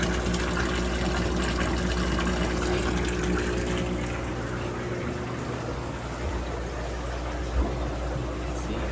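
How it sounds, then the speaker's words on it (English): Water drains out of an aquarium tank in a fishroom, a steady gushing rush like a tap or pump that stays close and constant, easing slightly partway through, with no talk over it. "I don't know if you can hear the water pouring out"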